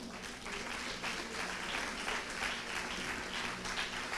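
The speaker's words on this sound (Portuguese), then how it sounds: "Aplauda ao Senhor." A church congregation applauds during an Easter celebration service, a steady, full wash of clapping from many hands that lasts about four seconds.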